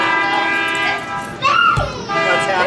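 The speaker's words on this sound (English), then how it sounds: "That sequence of horns you may have just heard." A diesel train horn on the Leadville, Colorado tourist railroad blares in a sequence of long, loud blasts that bend in pitch, with rumbling noise and voices underneath.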